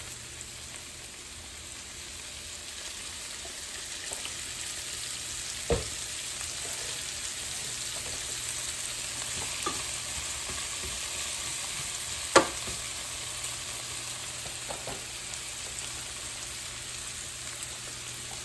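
Fresh okra frying in a single layer in a pan, a steady soft sizzle like light rain, with a few occasional scrapes and clinks of stirring.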